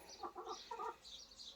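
A hen clucks softly in a chicken coop with her chicks, a few short, quiet, close bursts of clucking and peeping in quick succession.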